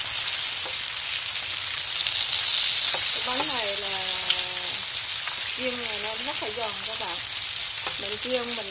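Rice paper crackers fry in hot oil with a loud, steady crackling sizzle throughout, while a voice speaks intermittently over it.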